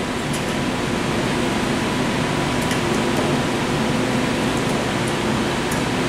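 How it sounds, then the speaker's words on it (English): A paint mixer machine churns a can of paint, giving a steady, loud mechanical whir with rumble and broadband noise that holds evenly throughout with no talking. "let's open up our paint and see how this high-tech mixer is going to work for us."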